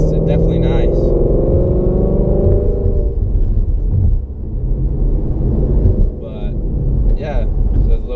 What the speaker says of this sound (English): I get a nice little pop, little backfire for first, second, and into third